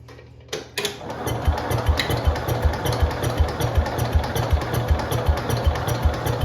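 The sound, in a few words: 1971 IH Cub Cadet 126 lawn tractor engine running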